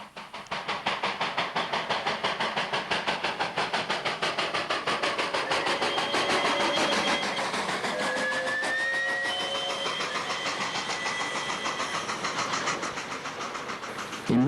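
A South African Class 25NC steam locomotive hauls its train with a fast, even beat of exhaust chuffs that carries on for many seconds. Faint tonal squeals drift over the rhythm partway through.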